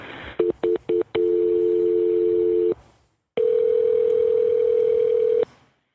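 A quick series of telephone keypad tones, then a steady dial tone that stops, a short silence, and a second long tone, loud and close.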